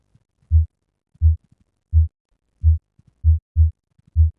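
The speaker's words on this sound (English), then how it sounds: "It's a heartbeat." A synthesized heartbeat from an interactive artery app pulses as soft, deep, even thumps, seven beats in a steady rhythm with silence between them.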